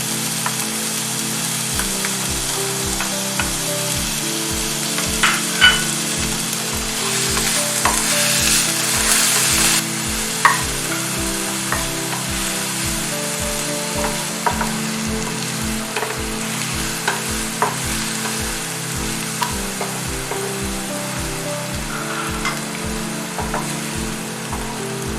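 Chopped onion, ginger and garlic fry loudly in oil for egg korma, a dense steady sizzle under a fast, regular rhythm of stirring strokes scraping the pan, close and with no talking.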